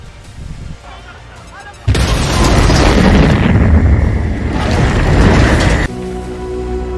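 Car bomb explosion in an action film: a sudden loud blast erupts and roars for several seconds before cutting off abruptly into quieter background sound.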